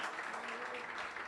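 A church congregation claps in a steady, dense wash of applause that holds at an even level throughout, heard from a distance and fairly faint.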